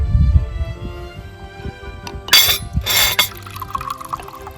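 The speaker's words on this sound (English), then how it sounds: "You want to dump the kombucha in?" Kombucha pours into a cup in two short splashing bursts, close by, with faint clinks and shuffling around them.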